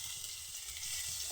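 Chopped tomatoes sizzle in a little hot oil in a kadai, a steady, close, crackling hiss that holds evenly throughout with no voices over it.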